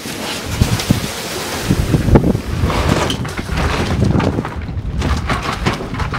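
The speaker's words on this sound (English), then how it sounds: "the wind's gonna blow it away though" Wind gusting outdoors around a homemade lumber-drying kiln, a steady broadband rush with buffeting microphone noise and rising and falling gusts throughout, close and fairly loud, with no talking.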